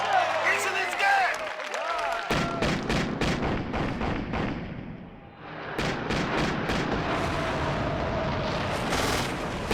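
Bombing explosions in the Axis & Allies video game: dense, rumbling blasts and crackling impacts fill the stretch almost continuously, briefly easing toward the middle before the barrage resumes at full loudness.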